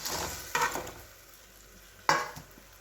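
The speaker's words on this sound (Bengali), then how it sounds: "দিয়ে এবার ভাজা মাছগুলো এর মধ্যে ঢেলে দেবো" Fried fish tipped into a pan of bubbling spice mixture with salt, two sharp sizzling bursts at separate moments over a faint background of frying.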